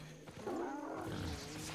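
A tiger in the video game Albion Online gives a faint, rough, low roar over a quiet game background, with no talk.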